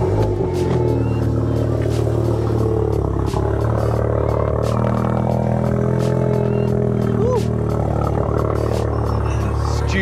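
A tuned stage 3, 540 bhp Audi S3 8V engine fires on a cold start and settles into a deep, loud, close, steady rumbling idle that fills the whole stretch.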